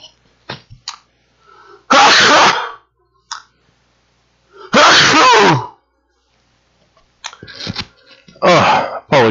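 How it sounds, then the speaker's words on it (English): Three loud, sharp sneezes burst out a few seconds apart, with faint breathing and small mouth noises in the quiet gaps between. "I'm about to sneeze"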